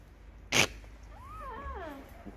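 Cat meowing outdoors in a town centre, one drawn-out wavering meow of moderate loudness after a sharp brief thump, with street background and no talk.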